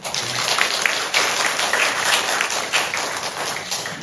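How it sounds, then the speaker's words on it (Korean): A church congregation breaks into applause during a Sunday service, a steady, moderately loud wash of many hands clapping that carries on for several seconds. "우리 같이 한번 박수할까요?"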